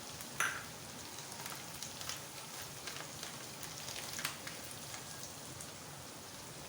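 Whole cumin seeds hissing in hot oil alongside fried potatoes, a steady soft sizzle with faint crackles and a couple of sharper pops, continuous and fairly quiet with no voices.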